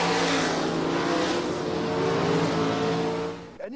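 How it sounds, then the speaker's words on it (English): A race car engine roars continuously at a drag racing strip. The loud, dense mechanical drone holds steady, then drops away near the end. "The wind farm site is right next to the world-famous Centre Pod drag racing strip."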